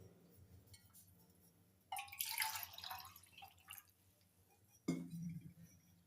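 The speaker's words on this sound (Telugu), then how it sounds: "ఒక మందపాటి గిన్నె పెట్టుకోవాలండి మనము. ఇందులోనే ఒక పెద్ద గ్లాస్తో మనం వాటర్ వేసుకోవాలండి." Water poured from a large glass into a thick-bottomed pot, first a faint dripping, then a close splashing pour of about two seconds, and a second short splash near the end, with no talking.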